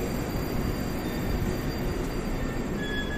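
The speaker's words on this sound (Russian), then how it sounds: "Это вот опытный состав" A prototype metro trainset on the Moscow Big Circle Line rumbles steadily, a constant loud roar of running wheels and motors heard from inside the car with faint high whines, no talking.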